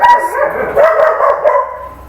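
A dog barks and yips several times in quick succession, close by, with short whiny tones between barks.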